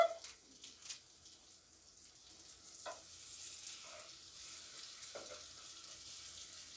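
Salmon croquettes frying in a pan give off a steady, soft sizzle of hot oil, with a few brief sharper crackles and spits scattered over it and no talking.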